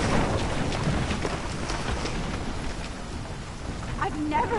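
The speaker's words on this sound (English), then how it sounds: "I've never seen a storm like this in Oregon." Thunderstorm rain pours down in the video game Life is Strange Remastered: a dense, steady hiss of heavy rainfall, loud and close, holding evenly throughout with a faint tonal call near the end.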